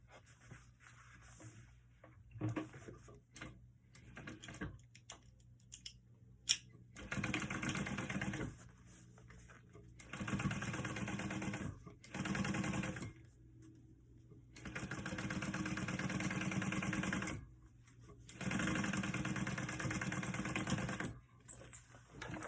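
A sewing machine top stitches a clutch pocket in several short runs separated by quiet pauses, each burst a steady whirring stitch.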